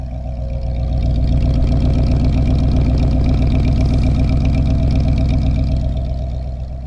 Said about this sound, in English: because engine is running